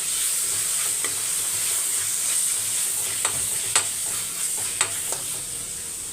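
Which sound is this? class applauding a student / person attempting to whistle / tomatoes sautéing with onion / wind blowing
tomatoes sautéing with onion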